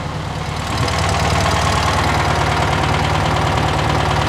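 Engine of a 1972 Karmann Ghia idling steadily after a new fuel filter and fuel line, a close, loud, even rumble with a slight knock, no voices.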